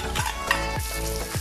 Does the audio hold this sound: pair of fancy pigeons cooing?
no